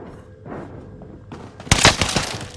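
A burst of video game gunfire erupts after a quiet stretch of faint background and distant voices, loud rapid shots crackling for about a second.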